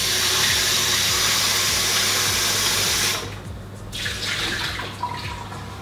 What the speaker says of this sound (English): You guys are going to need this saucepan again, so wash it up.